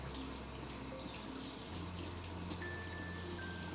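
Tap water runs over an acrylic cake disc being rinsed under a faucet, making a faint, continuous splashing hiss with a few soft tonal clinks mixed in.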